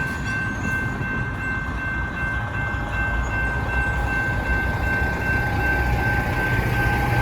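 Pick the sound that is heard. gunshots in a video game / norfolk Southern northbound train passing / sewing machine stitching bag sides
norfolk Southern northbound train passing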